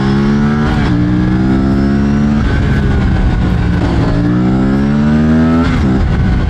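An Aprilia RS 457 motorcycle engine, 2024 model, accelerates hard through several gears, each pull climbing in pitch before a brief dip at the shift, loud and close throughout.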